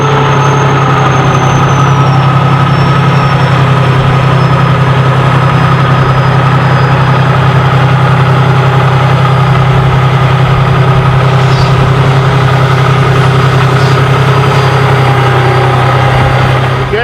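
A ShowHauler custom Super C motorhome engine idles steadily and loudly up close, a constant low heavy drone with a faint higher whine, holding unchanged for the full stretch without speech.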